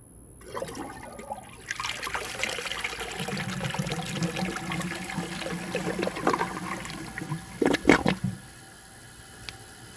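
A 2001 Eljer Canterbury toilet with a standard flapper flushes with a steady rush of water lasting several seconds, then gurgles and trickles as the bowl refills, loud and close with no talking.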